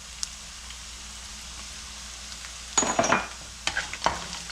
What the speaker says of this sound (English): So just let saute the onion till it gets a translucent.